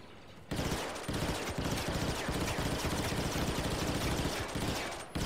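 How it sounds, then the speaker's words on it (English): Star Wars: Battlefront 2 gunfire as cover fire pours from a position: dense, loud, unbroken rapid-fire bursts roaring for several seconds after a brief quieter start, with no talk over it. "I'm just laying down some serious cover fire up here."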